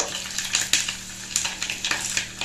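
Mustard seeds, fenugreek and chillies frying in coconut oil, a steady crackling sizzle broken by irregular sharp pops and spatters, close and alone.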